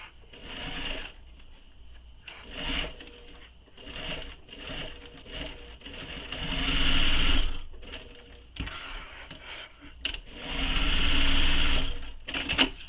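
Bursts of sewing-machine stitching on a bag come in several runs, short stops and starts with two longer steady passes, close and fairly loud with no talking.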